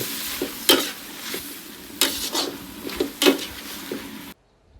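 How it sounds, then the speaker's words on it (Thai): Squid and holy basil leaves are stir-fried in a hot pan: a continuous close sizzle broken by several sharp scraping strokes of the spatula, then sudden silence near the end, with no voices. "เสร็จแล้วก็ใส่ใบกะเพราลงไป ผัดคลุกเคล้าให้เข้ากัน"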